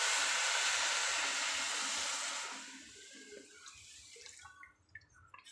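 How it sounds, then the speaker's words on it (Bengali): Coconut milk poured into drained basmati rice, a steady liquid pour and splash for about two and a half seconds, then fading into faint drips and small kitchen sounds. "এবার আমি এর মধ্যে দিয়ে দিচ্ছি নারকেলের দুধটা।"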